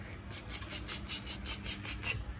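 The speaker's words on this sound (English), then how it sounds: "I'm guessing that noise is a bad idler pulley." A steady, rapid high-pitched chirping from a bad idler pulley on an LS engine, about four pulses per second, repeating evenly over a low running rumble.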